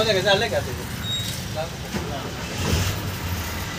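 A Naresh Travels seater bus on the Mumbai–Karad night run pulls away, its engine giving a steady low rumble throughout with people talking over it.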